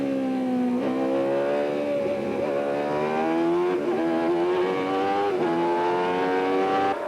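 Onboard a 1991 Benetton Formula 1 car, as it passes teammate Moreno's Benetton, the engine screams at high revs, steady and loud, with its pitch dropping at several quick upshifts.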